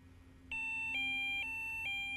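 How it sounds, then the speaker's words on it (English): A Delkim TX-i fishing bite alarm beeps in a steady repeating pattern of tones, close and fairly loud, with no one speaking. "that's the only thing that's going to stop that from going off."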